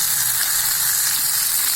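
Tomatoes sauté in hot oil for a Tamil-style fish curry, a loud, dense, continuous sizzle close up with faint stirring underneath and no talk.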